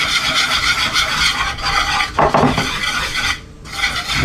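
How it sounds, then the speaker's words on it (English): Eggs, cake mix and melted butter are stirred together in a bowl, giving a steady close scraping and sloshing with a few clinks of utensil against the bowl and no talk. "Break up those yolks and just stir everything together"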